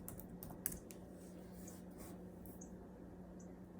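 Someone types on a computer keyboard to look up a word in a dictionary, faint quick key taps clustered at the start and then sparser, over a steady low hum.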